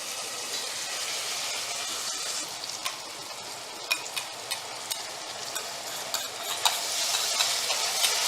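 Tomato and ground paste sizzle steadily in a hot pan, a continuous bright frying hiss broken by small pops and light stirring clicks.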